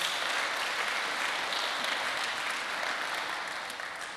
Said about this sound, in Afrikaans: Kan ons net vir hulle lekker hande klap gee vir al die aanlyn mense?